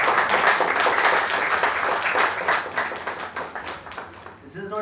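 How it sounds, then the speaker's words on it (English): An audience claps for pioneer children volunteering at a book launch on plastic waste management, a dense steady round of applause that fades near the end as a voice begins. "I think we must all clap for the children who have come."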